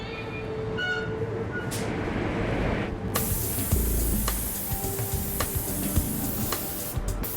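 A hissing spray gun applies paint to a Koenigsegg car part in a factory paint booth, steady spraying with periodic clicks and a louder burst of spray midway, no talking.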